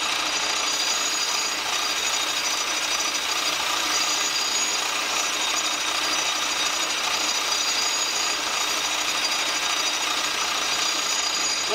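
Sandpaper rubs against a wooden vise handle turning on a lathe, a continuous close hissing abrasion with a faint motor drone beneath, steady throughout with no talk.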